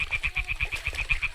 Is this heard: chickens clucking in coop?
no